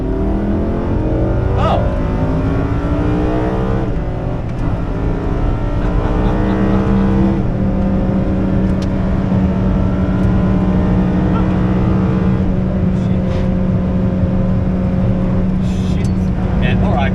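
A modified Lamborghini Huracan STO running flat out on the Nürburgring sends a loud, continuous engine roar that climbs and falls through the gears, with voices talking now and then over it.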